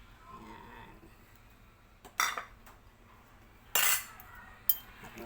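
A spoon scrapes and clinks against a bowl as egg is stirred into a seasoned mixture, with three sharp, loud utensil strikes standing out over quieter soft stirring.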